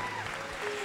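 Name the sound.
audience clapping hands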